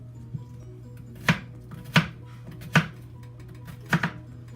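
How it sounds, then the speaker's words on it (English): Knife slicing lengthwise through a single onion on a cutting board, four crisp, evenly spaced chops, close and clear over a steady low kitchen hum, with no talking. "today I'm just going to add this one onion, and I'm gonna slice it this way, the long way"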